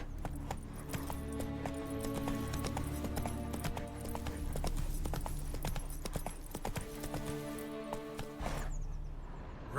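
Roach the horse galloping in The Witcher 3, a rapid, steady clip-clop of hooves close by under a tonal music bed, the hoofbeats carrying on throughout.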